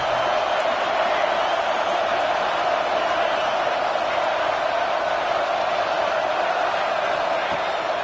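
A football stadium crowd roars on third down during a Gators game, a dense, unbroken wall of loud cheering that holds steady throughout.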